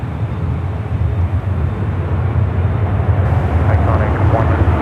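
An airliner takes off from runway 10 right at San Francisco airport, its broad, steady engine roar loud and continuous throughout, with a radio voice talking over it.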